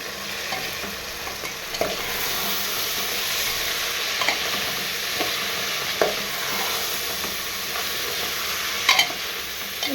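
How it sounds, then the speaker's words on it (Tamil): Vegetables and rice sautéed and stirred in a pan, a steady close sizzle with occasional scraping stirs and small clinks throughout. "இப்போ வதக்கி கொடுங்க"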